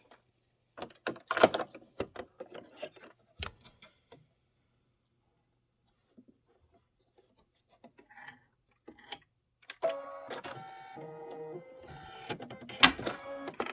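An embroidery machine sews a placement stitch in white thread for a Halloween mummy pillow block. It gives a few scattered clicks and taps at first, then a steady, close mechanical whirring and clatter near the end, with no talking.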